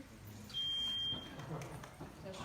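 Quiz buzzers being tested at an academic bowl tournament: a single steady electronic buzzer tone lasting about a second, sounding clearly over a low room murmur.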